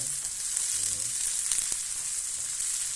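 Onion fries in a pan with a steady hiss and crackle while a spoon scrapes and stirs it a few times, close and continuous with no talk.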